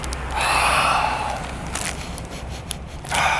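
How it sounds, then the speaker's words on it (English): Deep nasal inhale while sniffing a chili-colored fried wheat snack bought at a Mexican 7-Eleven, a long airy breath in near the mic, followed by a shorter second sniff. "First thing I'm gonna do is cop a deep inhale."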